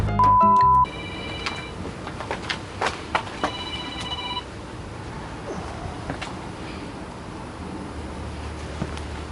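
A phone rings briefly in short electronic bursts, then fades into faint background noise with scattered clicks and soft knocks.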